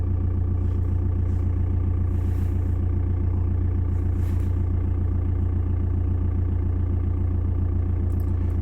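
Steady low rumble of a cold diesel engine idling, straining slightly under generator load while its coolant heating controller works. It runs close and unbroken throughout, with a few soft ticks and no one speaking.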